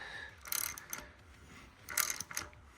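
Two short bursts of ratcheting clicks as a hand ratchet turns a thread repair tap into an aluminum cylinder head of a 1999 Subaru 2.5 DOHC engine, quiet and close, with a pause between them.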